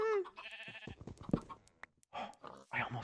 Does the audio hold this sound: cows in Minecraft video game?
yes